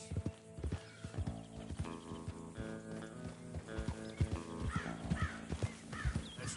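Horses' hooves clip-clop rapidly at a gallop in Red Dead Redemption 2, close and steady, with crows cawing and a horse whinnying amid the pounding rhythm.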